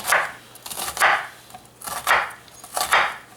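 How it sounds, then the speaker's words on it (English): Knife chopping an onion on a cutting board, four distinct bursts of close, crisp cuts in an uneven rhythm with brief pauses between, no talking. "the way I chop my onion is I go down this way"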